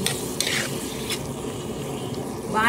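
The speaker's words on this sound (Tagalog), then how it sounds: "tapos igigisa po natin yung pusit" Squid sautéing in a hot pan makes a steady sizzle, broken by a few sharp scrapes and clinks of a utensil against the pan.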